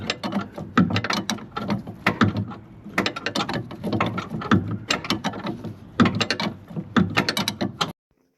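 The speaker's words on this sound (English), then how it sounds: "You can only use a spanner to get the drop link nut off." A ratcheting spanner undoes the drop link nut on a BMW 330i's front suspension, giving close, rapid clicking in repeated bursts with brief pauses between strokes and no talk before it stops abruptly.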